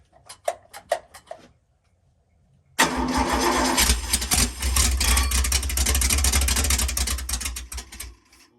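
A Ferrari V8 under repair, freshly fitted with a crank trigger, cranks with a few ticks, then catches and runs at a loud, rough, steady roar for several seconds before cutting off.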